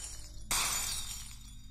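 Glass shatters in the Silent Hill 2 video game, a single loud, bright crash that bursts in suddenly and rings out over a low hum of background noise.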